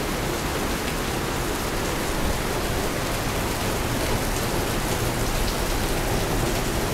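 Heavy rain pouring down in a flooded area by a building, a dense, loud and unbroken hiss of downpour with no voices.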